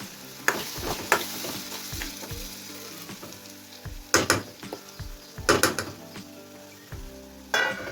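Spices sizzle in a pan after a splash of water is added, crackling steadily as a spoon stirs and scrapes against the pan in short bursts, close up and with no talking.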